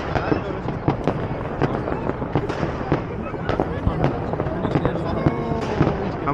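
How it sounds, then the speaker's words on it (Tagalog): Fireworks display bursting in a rapid, dense barrage of crackling pops and bangs, loud and continuous, with voices talking in the crowd beneath. "Ayan na siguro yun yung fireworks na yan."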